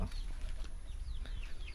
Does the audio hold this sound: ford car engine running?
no